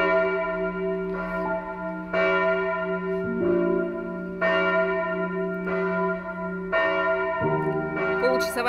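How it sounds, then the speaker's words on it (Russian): Church bells in Germany ring out at noon, loud and close, with evenly spaced strikes every couple of seconds whose tones overlap and linger in a rich, sustained hum. "пауза 12 часов, поэтому начинают колокола бить."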